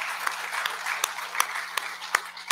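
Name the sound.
round of applause from a church congregation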